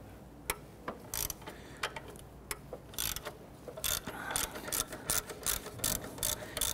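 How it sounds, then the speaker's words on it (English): A ratchet wrench loosens a 12mm bolt with bursts of quick, crisp clicking, close and fairly loud, some strokes short and some longer, with no talking. "We're going to loosen the back bolt here."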